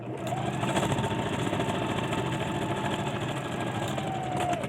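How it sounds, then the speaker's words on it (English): Sewing machine stitching small fabric squares together with a quarter-inch seam for a mug mat, a steady continuous mechanical whir running close and unbroken throughout. "So this one I'm going to go ahead and sew just like this."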